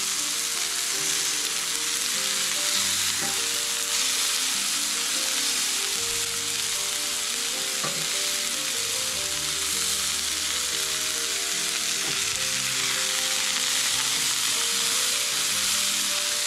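Sausages fry in a pan with a dense, even sizzle that holds loud and steady throughout, with a faint low hum beneath and no talking.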